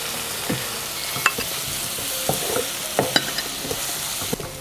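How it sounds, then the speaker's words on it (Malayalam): Onions, green chilies, ginger and garlic being sautéed in a pan, with a steady low sizzle broken by scattered scrapes and clinks of a stirring spoon against the pan, with no voices. "സവോളയും പച്ചമുളകും ഇഞ്ചിയും വെളുത്തുള്ളിയൊക്കെ നന്നായിട്ട് വഴന്ന് വന്നിട്ടുണ്ട്."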